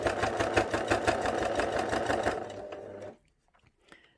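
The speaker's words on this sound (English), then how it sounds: "So I'm just going to gently sew round and then stop again." A domestic sewing machine stitches fabric for a small flat cap for a memory bear, running in a steady fast mechanical rattle for about three seconds and then stopping, followed by faint handling noises.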